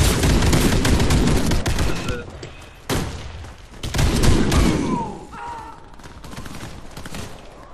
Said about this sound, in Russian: Граната пошла!